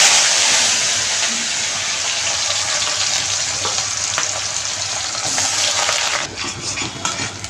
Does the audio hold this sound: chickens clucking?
no